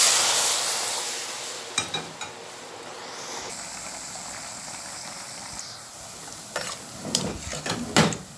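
Gizzard frying in a pan for idodo gives a steady close sizzle, broken by a few sharp scrapes and clinks of a utensil stirring against the pan, with no talk.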